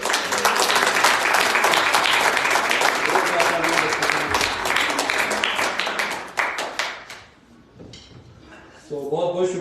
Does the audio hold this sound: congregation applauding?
yes